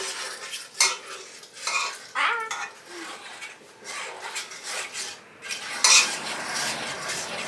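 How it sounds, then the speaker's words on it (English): Country sausage gravy thickens in a pan as a utensil stirs it steadily, making repeated close scraping and clinking strokes against the metal with a faint sizzle underneath and no voices. "You gotta stir all over the pan"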